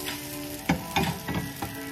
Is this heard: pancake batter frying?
yes